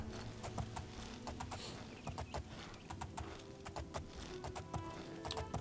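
Horse hooves clip-clop steadily in The Elder Scrolls IV: Oblivion, an even, moderately paced trot of sharp knocks over a faint, busy background.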